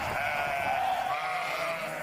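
A flock of sheep and goats grazing on hillside pasture bleats in a steady, dense chorus of overlapping calls that continues for about two seconds.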